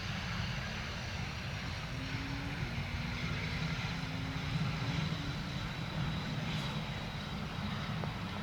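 A small propeller plane drones steadily at a distance near London Stansted Airport, its engine hum continuous and fairly faint against outdoor background noise.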